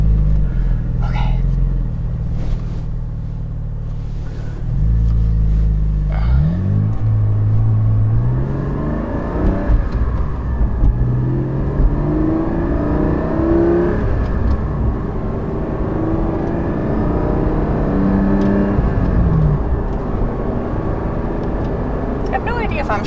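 Porsche 718 GT4 engine on a first drive, heard from the cabin, droning and rising through the revs with several clear drops at gear shifts, loud and steady, with a voice speaking quietly over it.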